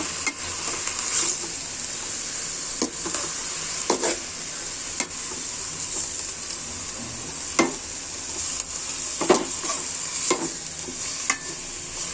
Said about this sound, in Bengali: পালং শাক ভাজি মরিচের গুঁড়ো অ্যাড করে দিচ্ছি নাড়াচাড়া করে দিব